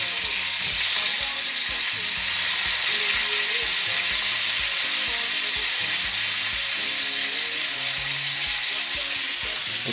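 Shrimps sizzling in a pan on a gas stove, with a steady loud hiss of frying oil and occasional clinks of stirring, without any speech.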